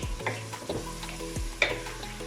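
Salted onions fry in a pan while a utensil stirs them, giving a soft sizzle under several distinct scraping and clinking strokes, close and fairly quiet.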